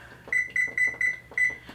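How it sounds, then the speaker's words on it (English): An electric oven control panel gives five short, high electronic beeps in quick succession as it is switched on and set to 450 degrees for sourdough bread, close and clear in a quiet kitchen. "going to hear a lot of beeps."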